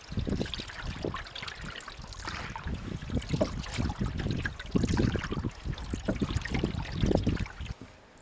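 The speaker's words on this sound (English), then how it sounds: "the wind is blowing in the opposite direction to the tide. It makes the water quite choppy" Choppy estuary water on the River Dart laps and slaps around an open canoe as wind blows against the tide, a steady, close splashing with uneven knocks and a broad rush throughout.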